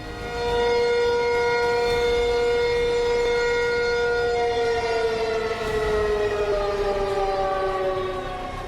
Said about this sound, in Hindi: ताइवान के स्ट्रेटेजिक लोकेशंस पर खतरे के सायरन बजने लगे।